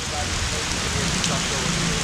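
A brief rain shower falls around someone stopped partway along a road, making a dense, steady hiss of rain that stays even and close throughout.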